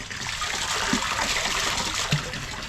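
Muddy water drains out of a pond in front of a house, a steady, close, continuous gushing trickle with no voices over it.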